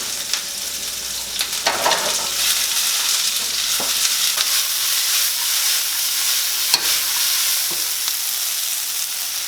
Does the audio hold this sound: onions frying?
yes